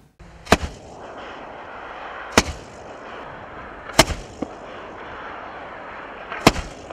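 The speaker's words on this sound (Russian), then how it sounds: "Боевая стрельба завершает полосу препятствий." Marines fire live rounds at a training ground obstacle course, four sharp, loud gunshots spaced a couple of seconds apart, each trailed by a short echo over outdoor hiss.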